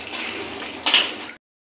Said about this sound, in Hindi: अब इसमें पानी ऐड कर देंगे